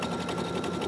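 A sewing machine running steadily as it sews vintage decorative stitches for crazy quilting, a continuous close mechanical whir with a fast, even stitching rhythm and no talk.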